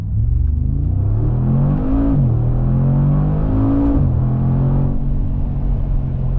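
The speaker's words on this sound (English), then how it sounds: "Let's go ahead and do another pull real quick. Let's do first gear again" A 600 hp Mercedes G-Wagon accelerates hard in first gear, its engine rising loudly in pitch, then shifting with a brief dip before climbing again, heard from inside the cabin with a deep rumble.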